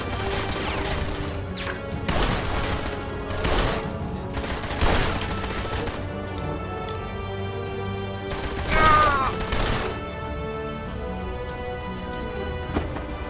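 Gunfire rattles in the noir video game Blues and Bullets, with repeated loud, crackling bursts of shots at irregular intervals over a steady musical score.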